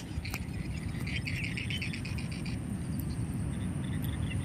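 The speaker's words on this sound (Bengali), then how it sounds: "এই সময়টাতে এই ঝাড় পোকাগুলো বাজে, কি সুন্দর কিপ কিপ কিপ কিপ করে বাজতেছে" Evening insects in a rural outdoor setting during the rainy season give a steady chirping 'kip kip' drone, continuous and moderately close, with a brighter pulsing stretch early on over low ambient rumble.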